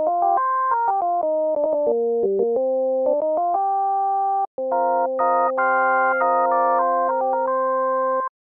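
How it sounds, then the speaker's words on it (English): FM synthesizer tone with a 1:2 modulator-to-carrier ratio plays a short melody of sustained chords and stepping notes, bright and organ-like, clean and close, with a brief gap midway. "Sounds almost like a bright, kind of cheap organ, or even a choir-like sound."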